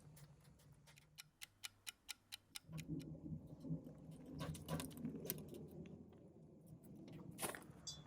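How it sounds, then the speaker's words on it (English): Light rain begins to fall outdoors beside an offset smoker during a steak cook, first as a few sharp, evenly spaced ticks and then as soft, irregular pattering drops. "It is starting to rain just a bit, wouldn't you know it"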